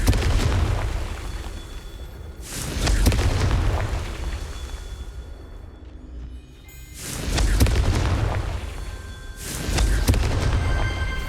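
Deep rumbling blasts from a Confringo fire spell in the Hogwarts Legacy video game, two or three heavy booming explosions with roaring tails that swell and fade over a steady loud background.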